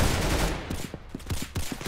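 Rapid burst of gunshots in the Roblox shooter game Arsenal, a quick run of sharp, evenly spaced shots that ends the clip, with no talk over them.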